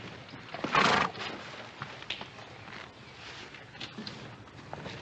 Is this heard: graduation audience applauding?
no